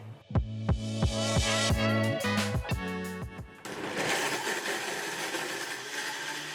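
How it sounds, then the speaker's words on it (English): Oster Pro 1200W blender working on frozen fruit for a smoothie, a run of loud stuttering knocks as the blade catches chunks, then a smoother continuous whir. "In our test, the Oster blender struggled with frozen fruits"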